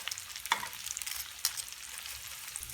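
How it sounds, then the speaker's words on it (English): Tonkatsu pork cutlet fries in hot oil in a preheated pan, giving a steady, faint crackling sizzle with a couple of brighter pops rising out of it. "Your oil shouldn't burn when you put it in, but it should be pretty hot."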